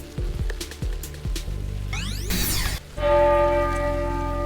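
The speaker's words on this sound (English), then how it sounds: "Here we find this giant bell, and when you shoot at it," A giant bell in the game Pilgrammed rings loudly when shot, a few struck clangs followed by a sweeping burst and then a sustained, booming ringing tone that fills the end, with no talking.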